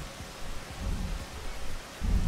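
Thunder rumbles low and heavy through a steady rain downpour in the video game Rain World, with a louder rolling surge near the end and no voices over it.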